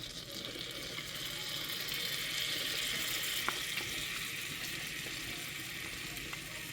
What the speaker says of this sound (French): on va attendre jusqu'à que le beurre fond